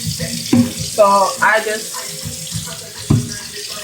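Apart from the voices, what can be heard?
water running from a sink tap while washing a container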